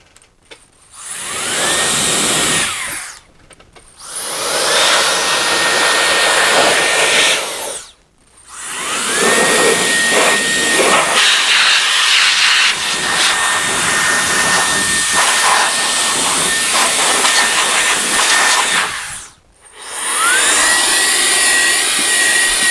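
An LK08 compressed air duster run in vacuum mode sucks up dust, giving a loud, close, rushing whine in long sustained bursts with brief stops between them.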